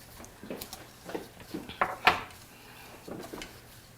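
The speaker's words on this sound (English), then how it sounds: "So if you want to bring our bowl over, we can mix right here." Vegan meatball mixture being stirred in a bowl, heard as a series of soft clinks and scrapes of a utensil against the dish, close and fairly quiet.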